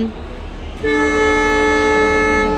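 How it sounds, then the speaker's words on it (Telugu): A train horn at a railway station, a loud sustained tonal blast starting partway in over a rumbling station background. "రైల్వే స్టేషన్లో ఎడిట్ చేయడం వల్ల మీకు ట్రైన్ సౌండ్స్ బాగా వినిపిస్తూ ఉంటాయి"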